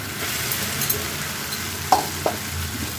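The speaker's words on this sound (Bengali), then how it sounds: "এবারে আমি ভেজে রাখা ভাড়ালিগুলো এর মধ্যে দিয়ে দিচ্ছি" Mustard seeds fry in a pan with pieces of fried vegetable, giving a steady, close sizzle with a few faint clicks and pops and no voices.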